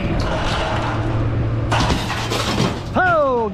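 Glass freezer lid shattering during street scrapping, a sharp loud crash with scattering glass midway, followed by a voice exclaiming.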